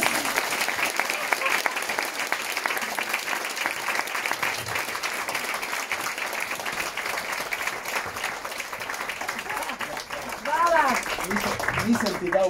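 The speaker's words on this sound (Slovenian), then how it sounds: "en velik aplavz" Steady, dense applause from a seated lecture audience fills the whole stretch, even and sustained without letting up, with a voice rising briefly near the end.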